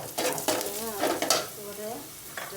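Vegetables stirred and fried with chili and turmeric in a pan, a short burst of sizzling with a few close spatula scrapes.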